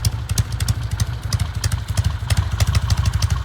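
A 1969 Norton Commando 750 Fastback motorcycle engine idles steadily at close range, its low throb beating in a quick, even rhythm with light mechanical clatter on top and no voices.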